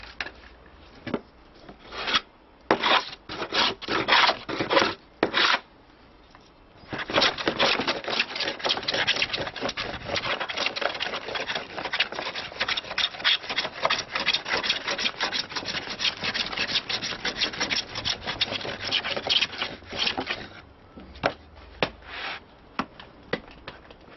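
A freshly sharpened hand plane rasps across wood for a lyre in long repeated strokes, a dense scraping hiss with brief pauses between passes, close and steady.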